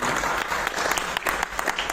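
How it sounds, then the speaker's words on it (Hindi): Sustained clapping fills an auditorium from an audience at a festival event at IIT Kanpur, loud and close, a busy continuous patter of many hands without talk. "आपकी तालियां थोड़ी सी साथ में चलती हैं।"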